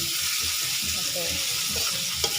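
Meat sautés in hot oil with ginger, garlic and onion, a loud steady sizzle with soft stirring scrapes and a brief clatter near the end.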